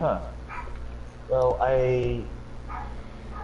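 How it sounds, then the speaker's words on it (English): Dogs bark a few times in the background of a home, short yapping calls under a person's talk. "I'm sorry for any barking you hear in the background"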